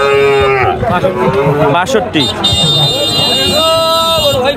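Bull calves at a crowded cattle market low loudly and repeatedly in long close moos, amid a dense din of voices and trading chatter.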